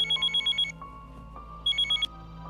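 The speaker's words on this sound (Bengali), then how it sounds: "তখন থেকে ফোনটা বেজে বেজে বন্ধ হয়ে গেল" A telephone rings in two short bursts of rapid electronic trills, separated by a pause with a faint hum in the background.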